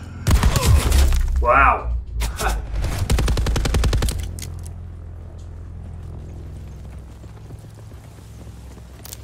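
A Titan LMG light machine gun in Call of Duty Black Ops 4 fires loud, rapid bursts of close gunfire through the first four seconds, then ambient game noise follows. A player briefly exclaims.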